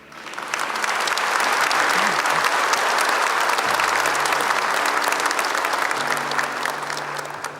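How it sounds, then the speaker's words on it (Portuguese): A church congregation applauds at a Catholic Mass, with steady dense clapping that swells in and holds loudly throughout, a faint organ or keyboard tone sustained underneath. "Aplaudamos a palavra de Deus."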